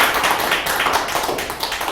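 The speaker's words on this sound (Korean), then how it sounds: "우리 최정규 대표께 한번 박수 한번 보내주실까요?" Audience applause at a lecture, a steady dense patter of clapping hands throughout, fairly loud with no talk over it.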